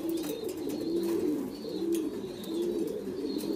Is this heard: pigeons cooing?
yes